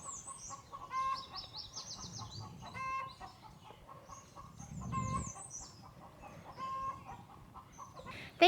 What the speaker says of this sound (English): Can you guys hear my chickens?